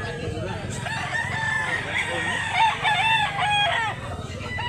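Roosters crow repeatedly at a crowded rooster market in Mantalungon, Barili, Cebu, several birds overlapping in loud, ringing calls with clucking and a low crowd murmur beneath.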